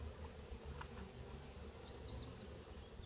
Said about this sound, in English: Big old group of bees.